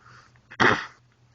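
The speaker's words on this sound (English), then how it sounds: "Clear my throat there." A man clears his throat once: a single short, harsh burst close to the mic, set against quiet room tone.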